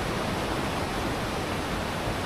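Madakaripura waterfall sends a steady, dense roar of falling water that fills the whole clip evenly, loud and unbroken with no voices.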